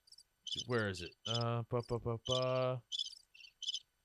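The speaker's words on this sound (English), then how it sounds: "Crickets." Crickets chirp in short, high, rapid pulses, repeating around and after a person speaking briefly in the foreground.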